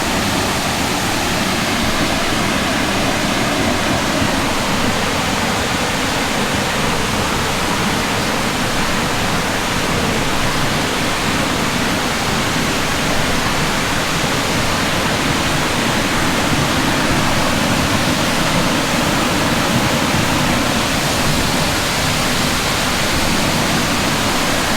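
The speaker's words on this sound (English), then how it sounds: "This is definitely a unique waterfall." A powerful waterfall in Norway roars in a dense, unbroken wash of noise, loud and close, with no variation across the whole stretch.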